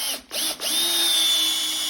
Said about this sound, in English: I'm going to take a screw and I'm going to screw it in with my drill driver.